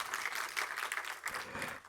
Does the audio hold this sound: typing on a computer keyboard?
no